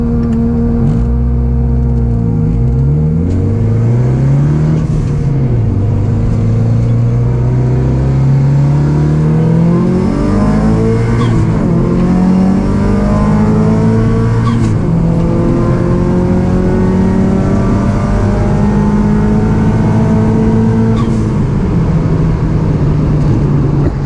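A 1998 Subaru 2.5RS roars down a drag strip, its engine revving hard through rising and falling gear sweeps, loud and continuous for the whole run with no talking.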